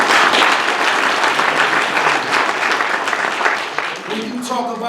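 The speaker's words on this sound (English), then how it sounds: "So let's give that a round of applause." An indoor crowd at the Atlantic City mayor's re-election campaign announcement claps loudly and steadily, the applause gradually thinning and fading out near the end.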